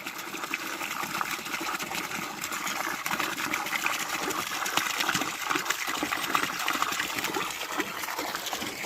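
Drinkable public-supply tap water runs steadily from a free drinking fountain in Slovenia, a continuous splashing gush with no voices over it.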